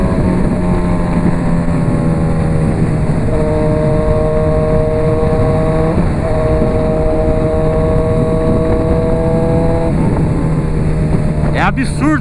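A Honda CB 1000R motorcycle cruises along a highway with a steady, droning engine note and heavy wind rush, the engine pitch holding level with slight shifts, loud and close throughout.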